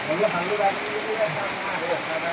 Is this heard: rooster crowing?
no